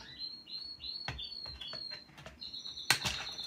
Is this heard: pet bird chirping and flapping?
yes